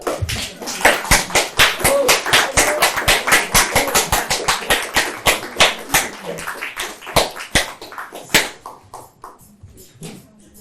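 Applause for improv performers at a live show in a social bar: a small audience claps in a quick, close patter of distinct hand claps that slows and thins to scattered claps before fading.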